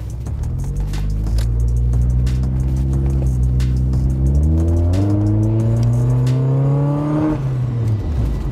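A Mazda MX-5 Miata engine revving up through the gears from inside the car, a loud rising drone that climbs, shifts, and climbs again before easing off near the end.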